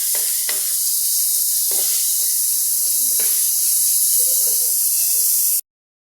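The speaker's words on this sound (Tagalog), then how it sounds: "Ilagay ko na itong ating giniling." Previously boiled ground meat sizzling steadily in a frying pan with sautéed onion, a loud continuous hiss with occasional stirring scrapes and clicks, stopping abruptly near the end.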